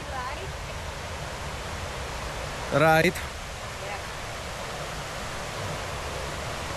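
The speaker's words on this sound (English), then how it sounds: "We can hear already the noise of the waterfall." Tat Huang Waterfall in Thailand gives a steady broadband rush of falling water heard from a distance, with a short spoken word and a brief whistle-like tone rising over it midway.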